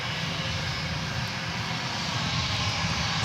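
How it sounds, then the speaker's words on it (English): An American Airlines Boeing 777 from London Heathrow approaching Dallas Fort Worth airport, a loud continuous jet engine roar, close and steady, filling the brief moment with no voices. "another 777 coming at us from the southern skies"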